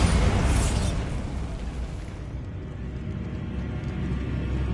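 A Bombarda spell blast in Hogwarts Legacy, a loud burst at the start that decays into a sustained low rumble lasting several seconds.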